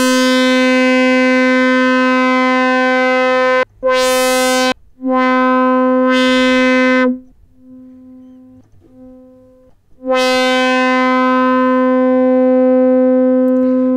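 Arturia MicroBrute synthesizer holding a bright, buzzy sustained note that cuts off sharply several times as the key is released and pressed again, with a quieter gap in the middle before the full tone returns, loud and with no voice.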